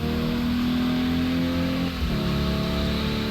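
A car engine in the driving game Drive 21 drones loudly and steadily while the car slides on a wet road, dipping briefly before the revs climb again, with no talk over it.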